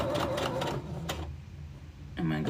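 Sewing machine stitching fabric in a home craft setting, a rapid mechanical whirring run that stops, a brief pause with a single click, then the stitching starts up again; a voice talks over part of it.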